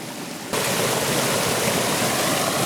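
A rushing mountain stream swollen after heavy rain roars steadily and loudly near a forest spot, a dense continuous wash of water that surges up abruptly after a brief quieter opening.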